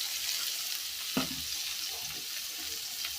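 Onions tossed into hot oil with chopped garlic in a village kitchen set off a sudden clatter and burst of sizzling, then settle into a steady, close frying hiss.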